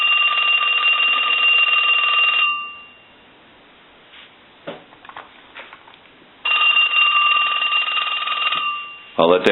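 A Western Electric Trimline telephone bell rings loudly for a couple of seconds during a repair test, pauses through a stretch of quiet handling noise, then rings again in a second long burst.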